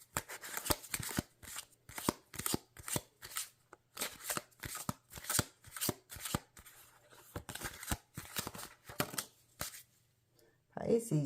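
Tarot cards being shuffled by hand in a rapid series of crisp riffles and slaps, close and fairly quiet, with a voice speaking softly under the shuffling.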